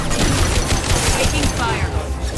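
Sustained gunfire during a firefight in Mass Effect 2, loud and continuous rattling shots with game voices calling out over the battle.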